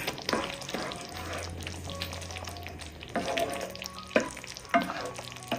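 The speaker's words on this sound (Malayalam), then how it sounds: "ഒന്ന് ഇളക്കി കൊടുക്കാം." Potato curry with tomato and onion being stirred in a pan, with soft scraping strokes, a light sizzle and a few sharper spoon knocks against the pan.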